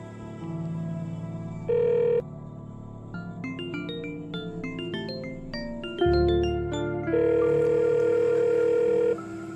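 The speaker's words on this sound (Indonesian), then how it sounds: "Coba telepon Livi." A telephone call rings out through a handset: steady electronic tones, a short beep, a run of quick dialing notes, then a long sustained ringback tone, clear and fairly loud with no talking.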